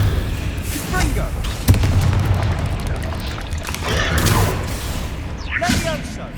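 A Confringo blast spell exploding in the video game Hogwarts Legacy, a sharp thudding boom standing out from a continuous loud roar of fighting, with voices heard over the action.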